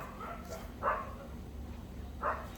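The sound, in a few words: dogs barking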